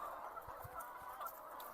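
Chickens cluck softly in a poultry shed during hot weather, with scattered short clucks over a steady, faint background hum.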